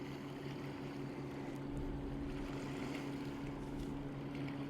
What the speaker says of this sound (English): There's a fast speedboat.